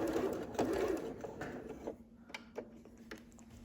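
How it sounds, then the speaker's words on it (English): A sewing machine stitches a pleated fabric face mask, its needle motor running in steady rapid bursts at close range, then slowing into a few separate clicks and taps near the end. "if you want to be fancy, you can just turn it this way and stitch diagonally"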